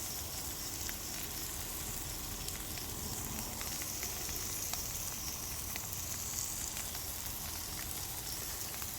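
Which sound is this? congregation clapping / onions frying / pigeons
onions frying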